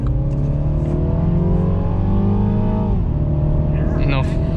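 A 2020 Mini Cooper S Clubman engine revs up toward redline, heard from inside the cabin as a loud, rising, steady drone that drops back at the end, with people talking over it.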